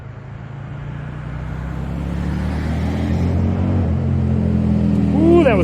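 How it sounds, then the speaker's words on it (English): On the winding Tail of the Dragon mountain road, a car engine drones and gradually builds in revs, echoing between the slopes and growing louder toward the end. "There's somebody revving."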